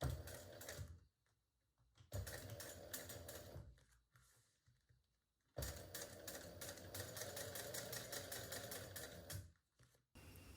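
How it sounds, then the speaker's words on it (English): A sewing machine top stitches a tote bag, running in steady rapid bursts separated by short pauses, close and fairly loud with no talking. "Go slow on the top stitching. You don't want it to be wonky."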